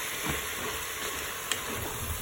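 Chicken and mushroom filling being stirred in a Cookeo multicooker, with a steady close sizzle and hiss running throughout and a few light clicks of the spoon near the end.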